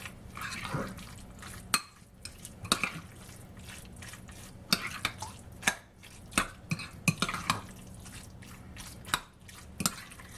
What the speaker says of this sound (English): Now we just stir up our salad